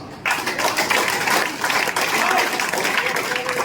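Seminar audience breaking into applause for a network marketing speaker, dense clapping that starts abruptly after a brief quiet moment and carries on steadily at a fairly loud level.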